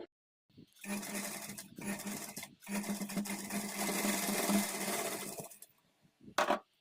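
A sewing machine with a normal presser foot stitches the folded edge of blouse piping in one steady, close run of whirring broken by short breaks, then a final brief burst.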